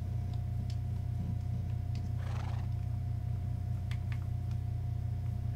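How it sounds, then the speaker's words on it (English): A single short horse neigh in the video game Minecraft rises briefly over a constant low electronic hum and faint clicks, with no talking. "Wait, we got a horse."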